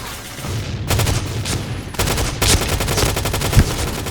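Rapid close-range bursts of Scar L rifle fire in the shooter game Point Blank, loud sharp shots in quick rhythmic volleys with a few heavier impacts, no voices.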